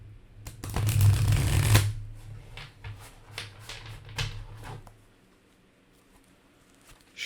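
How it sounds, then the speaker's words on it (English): A deck of cards is riffled in one loud burst, then several softer bridging and tapping flicks follow before the sound fades to near silence. "think of it now while I'm shuffling the deck"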